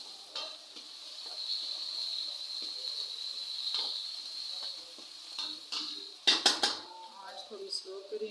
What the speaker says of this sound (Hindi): देखिए इस तरह से हम इसको फ्राई कर लेंगे।